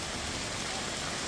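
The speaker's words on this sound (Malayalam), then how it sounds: "തൃശ്ശൂർ ജില്ല കണ്ടതിൽ വെച്ച് ഈ കൊല്ലം ഏറ്റവും വലിയ മഴ പെയ്യുമ്പോ ടാറിങ് നിർത്താം." Heavy rain pours steadily on a road in Thrissur where tarring work is under way, a dense, unbroken roaring hiss with no pauses.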